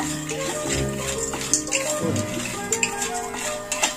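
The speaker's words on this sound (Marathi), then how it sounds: "हे बघा, शेंगदाणे पण तसेच भाजून घ्यायचे" Peanuts being stirred while dry roasting in a pan on a gas stove, light scraping and rattling clicks in irregular bursts over a steady background hum.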